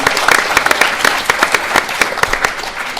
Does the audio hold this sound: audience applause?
yes